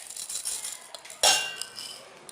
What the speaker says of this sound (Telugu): గిన్నె తీసుకుని గిన్నెలోనికి గ్లాసు వేసుకోవాలి